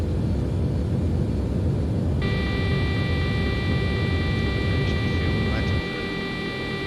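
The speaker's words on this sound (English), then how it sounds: "Taking off quite heavy, but it's fine. We're up." A Fairchild-Dornier 328 turboprop in X-Plane 11 on its takeoff roll and climb out of Nuremberg, a steady loud engine roar and rushing noise with a high whine joining partway through, easing slightly at the end.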